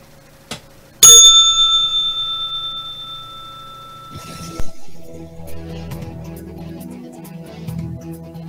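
A single bright bell rings once at the close of a live broadcast, its clear tone lingering and fading over several seconds before a dull thump and low background noise.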